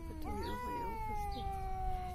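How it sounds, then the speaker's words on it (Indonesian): A cat meows in a long wavering call followed by a shorter one, close and fairly quiet, with no talk over it. "ini kucing cantik banget"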